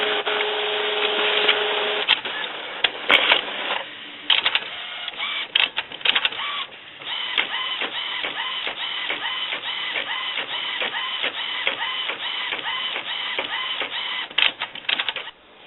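An Epson XP inkjet printer on a continuous ink supply lays down a page of solid ink, giving a steady whirring carriage drive with rapid, repeated clicking and shuttling strokes that stay loud and close throughout, with no talk.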